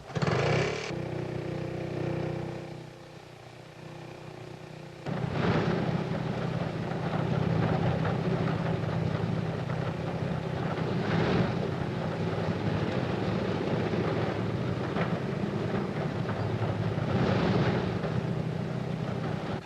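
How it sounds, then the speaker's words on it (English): Engines of a 1934 Handley Page airliner at Croydon Airport are started one after another by a small auxiliary motor, producing a steady loud droning roar that swells at intervals, with a commentator talking over it. "Tiny auxiliary motor starts each main engine in turn."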